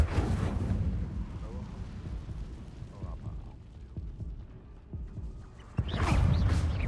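The Incendio fire spell is cast in the video game Hogwarts Legacy. A loud rumbling whoosh of flame opens the moment and then fades under ongoing game noise, and a second roaring burst rises at the end.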